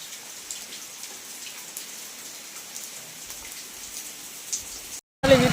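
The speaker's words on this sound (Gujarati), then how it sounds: "થોડો થોડો વરસાદ અહીં ચાલુ થઈ ગયો" Light rain falls steadily in a jungle, a soft even patter of drops with a few sharper taps on surfaces, continuous throughout before a brief gap and a louder burst at the end.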